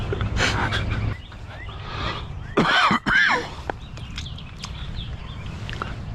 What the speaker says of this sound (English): I got cough due to cold.